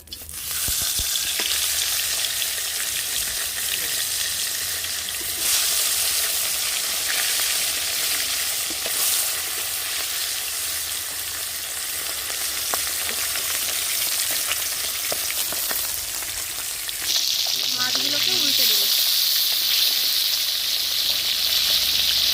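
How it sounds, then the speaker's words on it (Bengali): Bata fish coated with salt and turmeric sizzle steadily in hot mustard oil in a kadai, a loud continuous frying hiss that swells near the end, with no talk. "তেল গরম হয়ে গেছে এবার মাছগুলোকে দিয়ে দেবো"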